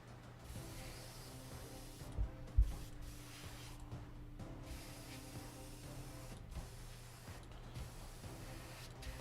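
A paint spray gun used on a figure hisses in a steady, sustained stream with brief pauses and a couple of sharp clicks near the start, with no talk.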